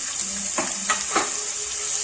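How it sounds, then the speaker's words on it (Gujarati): Ginger-chili paste tempering with asafoetida in hot oil gives a steady, soft sizzle with a few short stirring scrapes, heard up close and alone. "તો હવે આપણે છે ને થોડીક હિંગ નાખીને વઘાર કરશું સ્ટાર્ટ. પહેલા તો છે ને આદુ મરચાંની પેસ્ટ એડ કરી દેશું."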